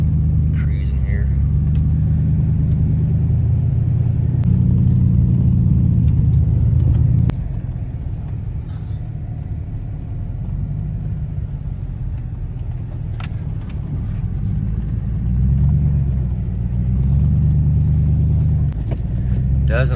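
A truck cruises along a snow-covered road during a heavy storm, its engine rumbling low and steady from inside the cab. The rumble dips briefly partway through, and voices talk over it.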